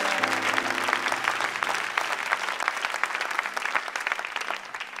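A church congregation applauds through a worship service, producing dense, sustained clapping from many hands that fills the room for several seconds.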